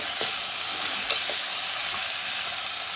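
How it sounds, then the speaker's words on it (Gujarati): Washed papdi beans dropped into hot garlic oil, a loud steady hiss and crackle of frying with light scraping, close and continuous without talk. "હવે આપણે આની અંદર ધોયેલું શાકભાજી નાખી દઈશું"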